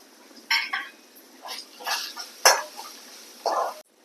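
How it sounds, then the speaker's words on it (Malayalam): Curry leaves and dried red chillies dropped into hot oil in a pan, popping and spitting in several short sizzling bursts, close by, with a sharp crack partway through. "കുറച്ച് കറിവേപ്പില ഇട്ട് കൊടുക്കുക."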